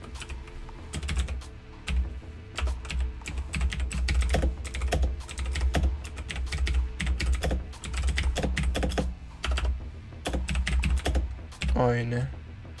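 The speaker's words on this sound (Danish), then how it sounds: "Jeg skal lige vende mig til det keyboard. Det er derfor, jeg skriver så langsomt." Rapid, irregular keystrokes on a new computer keyboard clatter up close for the whole stretch, with short pauses between bursts and a brief voice near the end.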